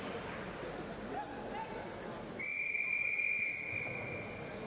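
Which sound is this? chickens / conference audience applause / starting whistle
starting whistle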